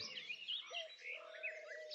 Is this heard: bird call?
yes